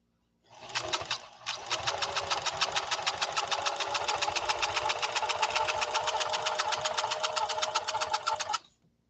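A Singer sewing machine stitching fabric held by hand rather than clamped: a brief start and stop, then a loud, close, steady, rapid stitching whir for about seven seconds before it cuts off.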